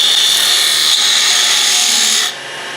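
A wood lathe cuts into a spinning lidded box with a close, continuous hissing scrape that holds steady and then cuts off abruptly near the end, leaving a quieter hum.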